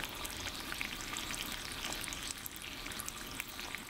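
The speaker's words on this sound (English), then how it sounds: "So while your bacon's frying up" Twelve slices of bacon fry in a pan, giving a quiet, constant crackling sizzle with scattered pops that carries on evenly throughout, with no talking.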